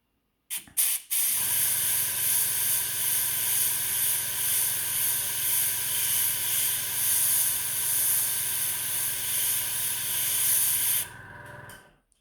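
An airbrush sprays black paint through a stencil in one continuous, steady hiss lasting about ten seconds, preceded by a couple of brief bursts and cutting off near the end.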